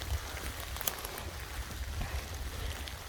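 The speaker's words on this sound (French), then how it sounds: "Il pleut beaucoup." Heavy July rain falls at near nightfall during a mushroom-picking outing, a steady dense hiss with scattered drops, no voices.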